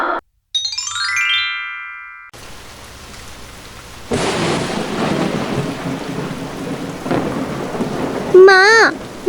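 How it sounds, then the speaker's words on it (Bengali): Heavy cartoon rain pours steadily as thunder rumbles and rolls, preceded by a short bright chime and ending with a wavering whistle-like effect over the downpour. "মা, বাইরে তো আজ অনেক বৃষ্টি হচ্ছে।"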